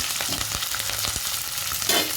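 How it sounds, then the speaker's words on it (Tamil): Onion, green chili and curry leaves frying in hot oil for rava upma: a loud, dense sizzle with crackling pops and a few thumps of a stirring spoon, with no speech. "வெங்காயத்தை நல்லா வதக்கணும்."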